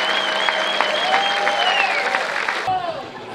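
Spectators at an amateur football match applaud as the team captain leads his side onto the pitch, steady clapping beneath a commentator's voice, cutting off abruptly near the end.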